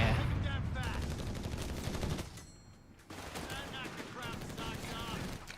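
Machine gun fire in Company of Heroes 3, rapid bursts of gunfire from a battle, fairly loud and dense, briefly dropping away mid-clip before resuming under talk and in-game voice lines.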